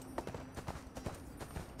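Horse hooves clip-clop in a steady rhythm as a mount rides off in the video game ArcheAge: Unchained, with a muffled voice faintly underneath.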